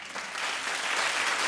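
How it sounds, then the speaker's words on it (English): A studio audience on a talk show claps for Stacy Keibler, a short, full burst of steady applause with no one talking over it. "Keep clapping for Stacy Keibler"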